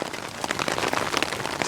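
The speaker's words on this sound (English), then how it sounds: "let's just hope this rain doesn't put out our fire" Steady rain patters on a campsite near a campfire, a dense close hiss of drops falling continuously.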